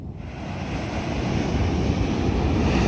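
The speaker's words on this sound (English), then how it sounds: "Sleeping to the sound of the waves." Ocean surf on a vast open Namibian beach along a shipwreck coast, a loud, steady broadband wash of waves mixed with heavy wind rumble on the microphone, swelling slightly over the few seconds.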